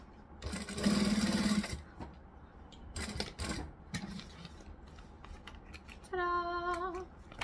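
Sewing machine top stitching a fabric strap: a short run of rapid even motor stitching near the start, followed by scattered handling clicks and rustles, then a brief higher-pitched whirring hum near the end.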